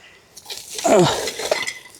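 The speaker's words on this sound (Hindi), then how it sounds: "ये हैं बर्तन, किचन के सारे बर्तन भी आ गए इसमें बस।" Kitchen utensils, pots and pans clink and clatter as they are packed into a bag, a short burst of metallic knocks building in the middle and trailing off, close by with no talk.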